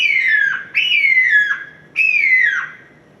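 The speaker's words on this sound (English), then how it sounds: "I use it as a hawk call. That high-pitched shrill sound that you don't even hear, sort of like a dog whistle or something." A high, shrill hawk-call whistle used for turkey hunting, blown loud and close in three long descending screams, each dropping in pitch before the next begins, with no talk.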